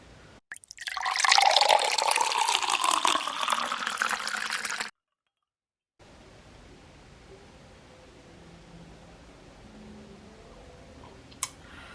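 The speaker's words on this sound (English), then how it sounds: "I'm going to pour it up," Stella Artois Blueberry beer is poured into a glass in one loud, steady stream of about four seconds. A brief silence follows, then a faint fizzing.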